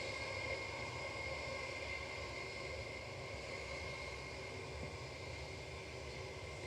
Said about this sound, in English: the Kuwait A330-900 Neo came in. That's just taxiing